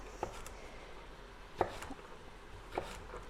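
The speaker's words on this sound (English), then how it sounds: "we're getting beautiful dices of carrots" A very sharp chef's knife dices hard raw carrots for a lentil soup: three sparse, crisp knife strikes on a cutting board, quiet and close, with soft background hiss between them.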